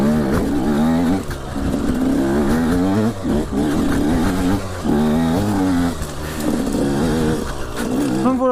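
A KTM 125 SX two-stroke motocross bike on a slick tyre revs repeatedly, its loud, close engine climbing in pitch in several surges with brief dips between, over about eight seconds of riding.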